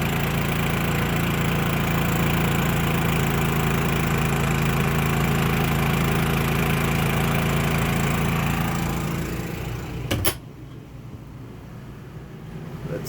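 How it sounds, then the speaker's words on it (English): A Champion 3100 dual fuel inverter generator runs with a steady, close engine drone that holds evenly for about ten seconds, then drops off to a quieter hum after a brief click. "Generator's still running."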